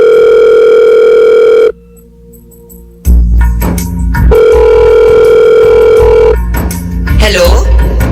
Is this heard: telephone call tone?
yes